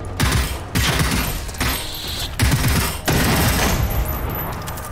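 Automatic gunfire in the video game Generation Zero, loud sustained bursts of rapid shots broken by brief pauses, close and dominant with no talking.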